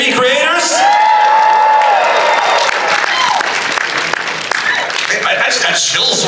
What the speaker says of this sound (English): Can I get a round of applause for all the AMV creators?